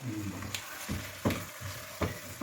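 Someone stirs chicken and onion gravy in a non-stick pan, with a run of rhythmic scraping strokes, four or five clear ones, over a continuous sizzle, close and fairly loud.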